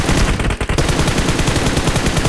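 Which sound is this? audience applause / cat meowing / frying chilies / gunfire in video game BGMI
gunfire in video game BGMI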